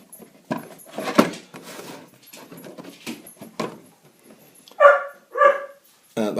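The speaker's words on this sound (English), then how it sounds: "That's my dog Coco." A pet dog barks indoors, beginning with a few soft, scattered yips and whimpers, then two loud, clear barks close by near the end.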